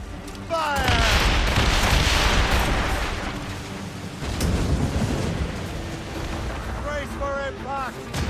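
Ship cannons on a naval vessel in Assassin's Creed Rogue booming in heavy broadside volleys, a loud rumbling barrage that swells and fades with distant cries and battle noise underneath.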